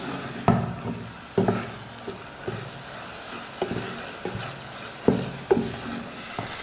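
Thick jaggery sweet mixture cooking in a pan on the stove, with a soft sizzle beneath repeated scraping stirs of a spoon against the pan, each stroke a sharp knock that comes at irregular intervals.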